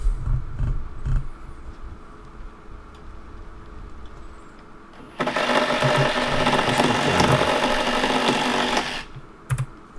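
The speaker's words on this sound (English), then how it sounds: "Just using the Sawzall here to cut off the broken nails." A Sawzall reciprocating saw cuts off broken nails during a lean-to shed build, with a loud, steady buzzing burst of several seconds after quieter knocks and handling noises.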